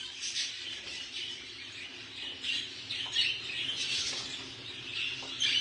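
Birds in a champion breeder's pigeon loft, soft chirps and squawks with faint rustling, quiet and steady throughout.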